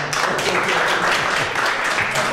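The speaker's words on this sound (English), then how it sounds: "We'll just clap for Rebecca," A graduation audience claps for Rebecca at a yoga psychology program ceremony, a dense, steady patter of many hands filling the room close by without pause.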